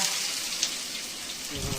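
A steady, close crackling sizzle of onion frying in hot oil with cinnamon and cardamom, dense and even throughout with no pauses.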